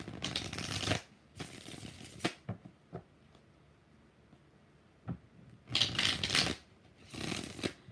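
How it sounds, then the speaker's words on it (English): A deck of tarot cards is shuffled in several separate riffling bursts, each a crisp fluttering rush lasting about a second, with quiet pauses and soft handling taps in between. "5 shuffles."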